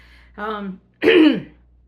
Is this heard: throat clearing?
yes